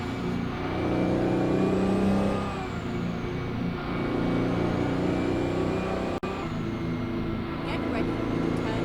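Detroit Diesel 12V71T truck engine in American Truck Simulator, a steady loud diesel drone that swells and eases as it revs through gears, continuous for the whole stretch with a brief dropout near the end.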